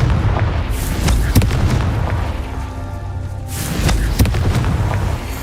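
Confringo fire spell from Hogwarts Legacy, heard as two booming blasts with crackling bursts, one near the start and another around the four-second mark, over a steady rumbling game background.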